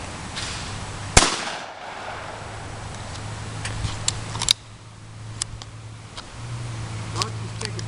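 Sharp gunshots during a bird shoot ring out at about 1 second and 4.5 seconds, each a loud crack with a short echo, over steady outdoor background noise and people talking.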